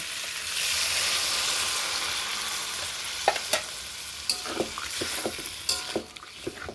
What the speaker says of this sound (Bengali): ছোলা দিয়ে এই যে আমার কষানো হয়ে গেছে। এখন এর মধ্যে আমি খানিকটা জল অ্যাড করে দেব।